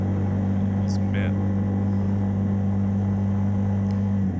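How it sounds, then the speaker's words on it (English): ATV engine idling with a steady low drone on a frozen lake while the rider tries to force a gear shift without a clutch, with a couple of faint clicks over the constant hum. "This is me trying to switch gears."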